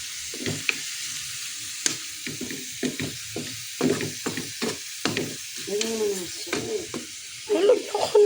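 Garlic and onion fry in a pan with a faint, crackling sizzle under a woman's speech, punctuated by light clinks and stirring scrapes.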